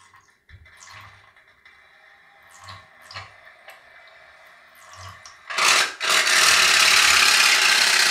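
Small Japanese put-put toy boat with a candle-heated engine, scattered faint clicks and taps giving way to a loud, continuous rushing hiss near the end.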